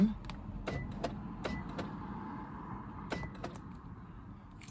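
Repeated short clicks and whirring buzzes of worn, fatigued car door lock actuators straining, over a low background hum, fairly faint.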